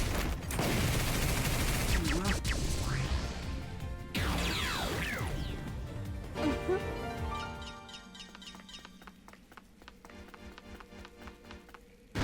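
Hurricane Screw Shot attack in Digimon Story Time Stranger, a loud rapid volley of gunfire-like bursts with crashing impacts and whooshing sweeps that fade into a dense clatter of small hits, with a voice speaking early on.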